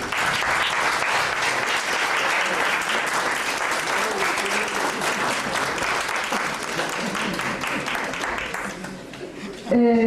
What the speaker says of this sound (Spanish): Un aplauso, por favor, para don Constantino Lima